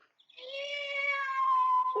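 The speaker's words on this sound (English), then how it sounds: "Oh, cat. I'm so glad to see you." A cat gives one long, drawn-out meow, clear and close, rising into a sustained tonal cry for over a second with no talk around it.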